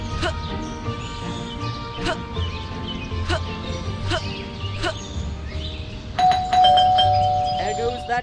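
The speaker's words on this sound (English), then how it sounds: "There goes that stupid bell again." Repeated electronic doorbell chimes ringing at a steady pace over background music in an animated role-play scene, ending in a brighter, louder multi-tone chime.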